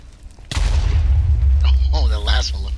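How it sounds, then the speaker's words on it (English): Explosion in the Minecraft video game, a sudden loud boom followed by a long deep rumble, with a voice talking over the tail end. "That's the only one I saw the explosion"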